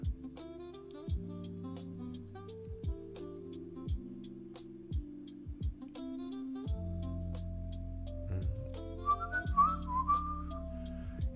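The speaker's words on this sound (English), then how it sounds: "Is this whistling in time?" A person whistles a made-up tune alone, a clear melody of sustained and sliding notes over a soft low hum, fairly quiet and close.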